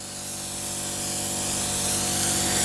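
Airbrush spray gun laying a colour coat onto a cake, a steady continuous hiss that builds slightly in loudness, close and alone with no talking.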